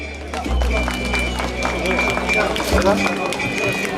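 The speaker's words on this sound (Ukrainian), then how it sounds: "Вітаємо його гучними оплесками." Loud applause and crowd noise for the third-place winner of a banana-biting contest, a steady dense wash of clapping with a voice talking over it.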